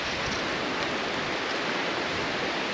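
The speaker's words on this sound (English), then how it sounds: "Okay, that's Fantail Falls." Fantail Falls, a waterfall in New Zealand's Haast Pass, produces a steady, dense rushing roar that stays even throughout with no other sounds.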